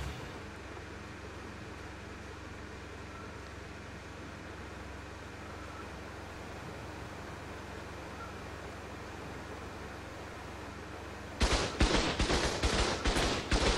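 A low, steady engine-and-wind rumble runs for a long stretch on a war boat in a video game, then turret gunfire breaks out in a fast, loud string of repeated shots near the end.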